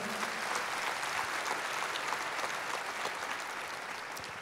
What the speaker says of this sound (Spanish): Démosle otro aplauso al Señor, que se lo merece.